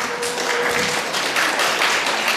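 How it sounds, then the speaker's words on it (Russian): Audience applause at a trainers' presentation during a festival event, a steady broadband patter of many hands clapping without a break, fairly loud and filling the room with no voices on top. "Под аплодисменты."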